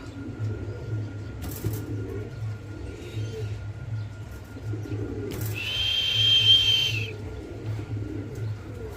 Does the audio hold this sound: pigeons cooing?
yes